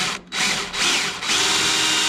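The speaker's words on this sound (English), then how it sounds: "we can go ahead and drill out our holes" A power drill bores holes through the hull of an aluminum jon boat. It runs as three short, high-pitched whining bursts separated by brief pauses, close by and with no talking.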